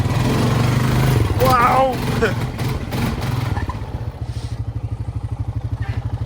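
A Honda 420M four-wheeler labors uphill, its engine chugging loud and near with clattering, then settling into a rhythmic idle-like throb; a person briefly exclaims over the engine.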